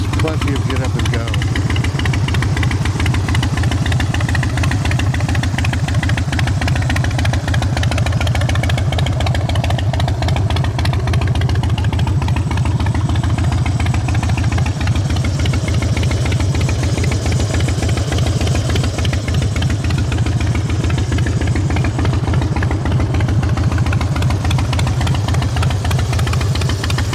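A 2005 Harley-Davidson Dyna with a cammed 96-inch engine idles steadily and loudly nearby, its deep lumpy rumble running continuously throughout.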